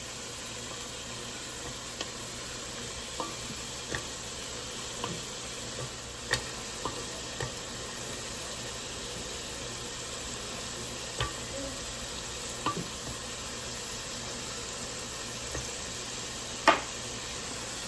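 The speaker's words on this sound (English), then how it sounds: "we have got to let these soften up and cook in that butter" Gentle, steady sizzle of vegetables cooking in butter in a pan, with occasional small taps and ticks from stirring over a quiet hiss.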